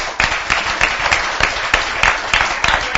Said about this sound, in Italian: Ma vai, un applauso